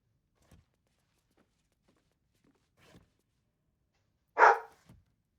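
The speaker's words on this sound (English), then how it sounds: "That was one of my dogs." One loud, sharp dog bark close by, breaking a near-silent stretch with only a few faint soft thuds before and after.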